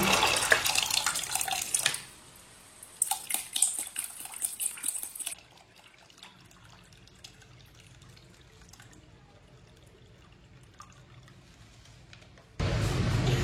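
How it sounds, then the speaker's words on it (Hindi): Cold water poured into mango juice in the kitchen, a loud splashing gush at the start, then a softer trickle and a final burst, with no talk. "आप इसमें पानी डाल लेंगे।"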